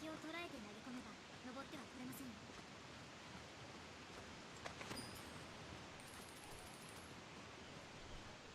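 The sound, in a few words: waterfall in the video game Dragon's Dogma: Dark Arisen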